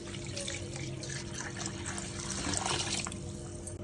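Water pours steadily into a cooking pot for masala chicken pulao, a continuous close splashing stream that swells slightly near the end, with no talking.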